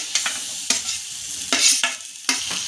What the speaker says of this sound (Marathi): आता ही आपण चांगली परतून घेणार आहोत